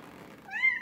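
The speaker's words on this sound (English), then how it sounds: "This is the cutest cat ever, man." A pet cat lets out a single short meow, rising into a clear, close tone after a faint breathy start.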